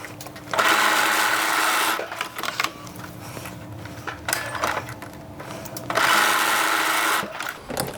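Home sewing machine stitching short straight shoulder seams, two loud bursts of rapid motor whirring separated by a quieter stretch of handling clicks and fabric movement.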